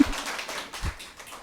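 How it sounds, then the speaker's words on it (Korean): A small audience at a community welfare center sharing session claps briefly for a departing guest, a short scattering of taps and claps with a couple of louder hits, fairly close and without talk. "가실 때 박수 한 번만 부탁드려도 될까요?"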